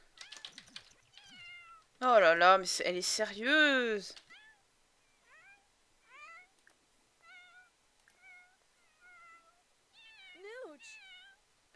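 A cat in The Sims 4 video game lets out a long, insistent run of loud wavering meows, then a string of shorter, softer mews at intervals, with a person talking over part of it.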